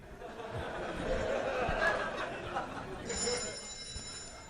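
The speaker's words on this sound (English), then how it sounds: "Now the phone's ringing." A telephone rings with a bright, steady electronic tone under lively talk and laughter in a comedy show setting.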